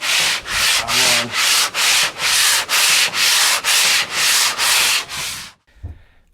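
About a dozen rhythmic, even sanding strokes rasp across the hull of a hurricane-damaged catamaran in a boatyard. They are loud and close, then stop abruptly, leaving a short quiet tail.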